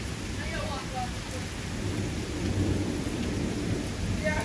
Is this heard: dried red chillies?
no